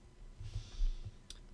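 Mouse clicking on cells in a Maxscript previs tool in 3D software, a few quiet, close clicks in a short quiet stretch with no speech.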